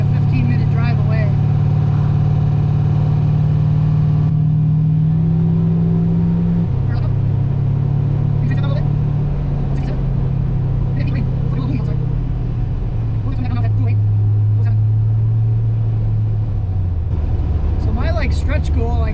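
A twin turbo 5.3 Ford Ranger driving slowly on a street, a deep steady engine hum from inside the cab with gentle pitch shifts as it changes speed, under continuous talking.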